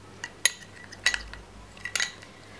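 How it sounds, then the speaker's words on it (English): A spoon mixing four ingredients into a paste in a small bowl, three or four distinct scraping clinks against the bowl in a loose rhythm, close and fairly quiet with no voice. "Mix all these 4 ingredients very well"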